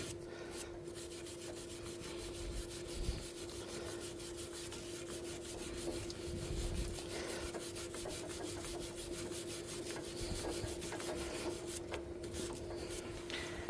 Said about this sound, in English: we're going to go ahead and just scrub it